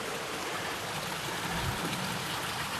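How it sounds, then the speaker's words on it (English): Water flows steadily beneath a roadway of large flat field stones laid across a beaver dam along an old path in Douglas, Massachusetts, a constant broadband rushing close by with no talk. "You can see actually the water's flowing very neatly right below the structure."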